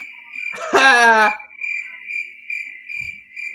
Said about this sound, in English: there's also crickets. Crickets right now.